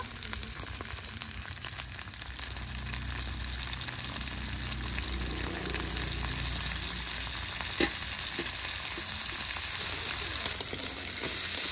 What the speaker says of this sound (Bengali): এবার দিয়ে দেব কেটে রাখা কাঁকড়া। কাঁকড়ার মধ্যে একটু লবণ হলুদ দিয়ে দেব।